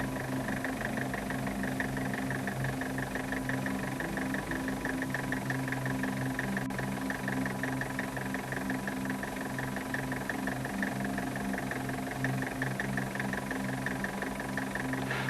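A diesel engine fitted with a VE distributor-type rotary injection pump idles at a steady, even pace, its rhythmic knocking pulse continuous and fairly quiet throughout, with no voices.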